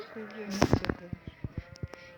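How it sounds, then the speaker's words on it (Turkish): Sheep and lambs bleat close by in a short burst, a wavering cry followed by several quick, uneven calls. "Neyse koyun kuzuları ve koyunları"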